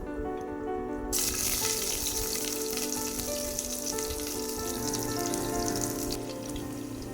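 Cashew nuts and onions frying in a pan for ghee rice give a loud, continuous sizzle that swells sharply after the first second and holds steady, with no voices.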